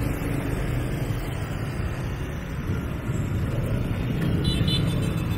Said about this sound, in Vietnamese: xe cộ đây rất là hỗn loạn